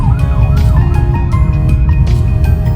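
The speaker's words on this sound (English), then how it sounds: "when you get an ambulance coming on," An ambulance siren wails with rising and falling tones over steady loud traffic rumble in Hua Hin, Thailand, sounding close throughout.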